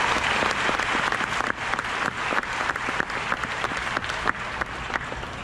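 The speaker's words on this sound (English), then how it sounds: "give yourself a round of applause" Audience at a Kamiak Class of 2022 high school graduation ceremony claps steadily, a loud dense applause that holds for several seconds, with no one speaking over it.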